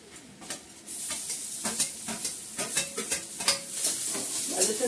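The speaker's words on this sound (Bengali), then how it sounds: "গাজরটাকে ভালো করে ভাজবো।" Carrots fry in a pan over a gas flame, a close sizzle broken by repeated scraping and stirring strokes, with no voices.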